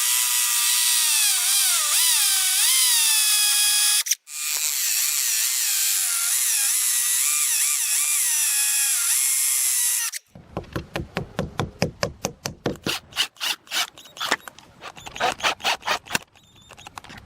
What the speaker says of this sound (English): Next, drill the holes that's marked.